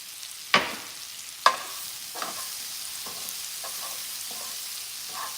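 Smoked paprika being stirred and fried in a pan, with a steady soft sizzle broken by two sharp utensil scrapes near the start and lighter stirring clinks afterward, close and moderately loud, no talking.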